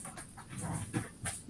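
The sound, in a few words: dog panting and whimpering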